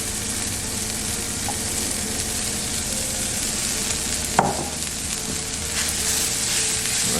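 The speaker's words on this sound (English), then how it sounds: "I'm just going to cook this now until the corn gets a little soft" Sweet corn with green onion, garlic and jalapeno sizzling in a pan, a steady close frying hiss with one sharp clatter midway, no voices.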